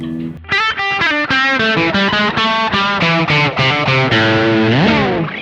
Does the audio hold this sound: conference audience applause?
no